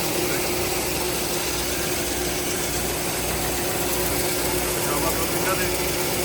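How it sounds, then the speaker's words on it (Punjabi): A petrol-powered engine runs at a feed plant producing 500 tons a day, giving a steady, continuous mechanical drone with a low hum that holds unchanged throughout. "ਇੱਥੇ ਇਹਦੇ ਮੋਟਰ ਲੱਗੀ ਹੋਈ ਆ ਕਈ ਜਗ੍ਹਾ ਦੇ ਉੱਤੇ ਪੈਟਰੋਲ ਦੇ ਨਾਲ ਚੱਲਣ ਵਾਲਾ ਇੰਜਨ ਵੀ"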